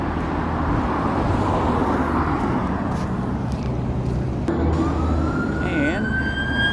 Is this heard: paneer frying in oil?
no